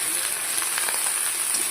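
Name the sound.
stirring bottle gourd greens with turmeric and salt in a pan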